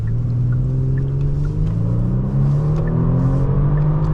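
A 2023 Genesis G70 3.3T AWD's engine while driving, a loud steady rumbling drone with rising harmonic tones as it pulls, close and continuous with no talk.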